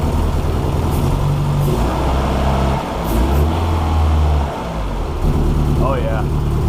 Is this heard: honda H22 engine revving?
yes